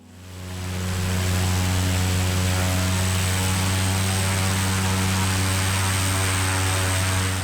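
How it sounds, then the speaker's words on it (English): A propeller plane's engine roars at full takeoff power, its wheels dug into soft ground, giving a loud, steady drone with strong low harmonics that builds quickly and holds, with no voices. "I had to use takeoff power and the plane was not moving anymore"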